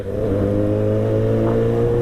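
A big motorcycle's engine runs loud and close, a steady droning hum with rising tone as it revs slightly.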